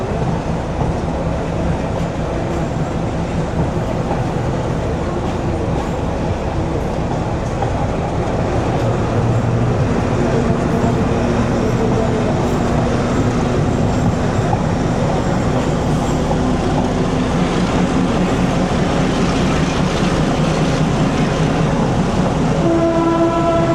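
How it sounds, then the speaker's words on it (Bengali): A Bangladeshi local train rumbles past loud and close, its wheels clattering steadily on the rails while long horn blasts sound over the continuous din. "এই লাইনে কিন্তু ট্রেন একটা আসতেছে"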